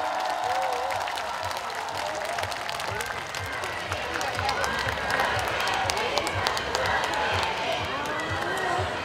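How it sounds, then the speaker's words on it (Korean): A large audience at an outdoor festival in Uiryeong applauds steadily, with continuous dense clapping and some cheering from a big crowd throughout, while a voice speaks over it. "군수님께 큰 박수 한 번만 부탁드리겠습니다."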